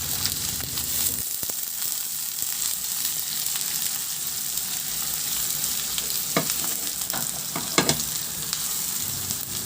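Onions frying in a pan for a Filipino chicken sotanghon with patola and malunggay, a steady close sizzle with occasional stirring scrapes and spatula clicks throughout, no voices.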